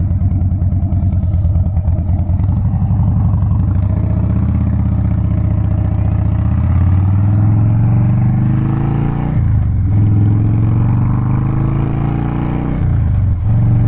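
Harley-Davidson Dyna Wide Glide with big pipes, a loud close V-twin rumble that rises and falls as it revs, with deep throaty pulses and no voices.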